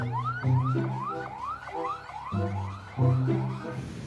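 A red toy ambulance's siren wails in quick, repeating rising sweeps, each about half a second long, played close and steady with no talk over it.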